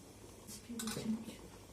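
A glass jar of cucumber salad is lifted out of a pot of simmering water during home canning, giving a few brief, soft clinks of glass against the pot over a low background hiss.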